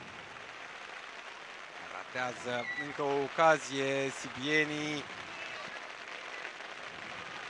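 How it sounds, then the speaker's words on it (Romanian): Heavy rain falls on an outdoor minifootball pitch during a Romanian national championship match in Hunedoara, a constant soft hiss beneath an excited commentator's speech. "Plouă din ce în ce mai tare la Hunedoara."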